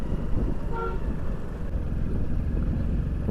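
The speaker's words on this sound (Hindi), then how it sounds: "जो भाई हॉर्न मारता है ना मैं उनको तुरंत साइड दे देता हूँ" A single brief car horn toot on a mountain road near Mussoorie, heard from a motorcycle amid steady road and engine rumble.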